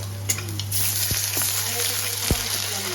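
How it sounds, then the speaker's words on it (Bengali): Sliced potatoes frying in a pan, a continuous close sizzling hiss with a couple of brief stirring knocks, no talking. "এবার আলুটা দিয়ে ভালো করে মা একবার একটু হাফ ভেজে নিচ্ছে।"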